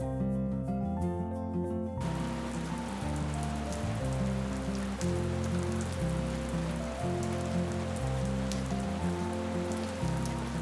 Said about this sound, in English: It's such a relief that the rains have come back to the Ghats